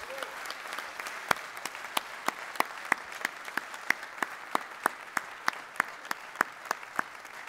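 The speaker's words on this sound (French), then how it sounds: "c'est le colonel Dominique Turc, avec qui j'ai longtemps travaillé et mérite notre applaudissement" Scattered applause from an audience at a French fire and rescue congress, with sparse individual claps standing out against a faint, steady backdrop of clapping.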